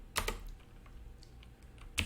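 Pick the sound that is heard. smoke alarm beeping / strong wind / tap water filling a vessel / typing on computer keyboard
typing on computer keyboard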